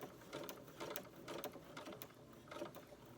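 A sewing machine stitches a short back stitch while paper piecing pumpkin and flying geese quilt blocks, giving a faint, rapid mechanical whirring with rhythmic ticks.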